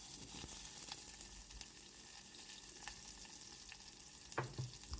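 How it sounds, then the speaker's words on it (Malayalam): Ginger, garlic and onion sauté in a pan, producing a faint, steady low hiss with a few soft clicks and one brief louder knock near the end. "ശകലം ഇഞ്ചി, വെളുത്തുള്ളി, ശകലം ഉള്ളി ഇത്രയിട്ട് നല്ലപോലെ ഒന്ന് മൂപ്പിക്കാം"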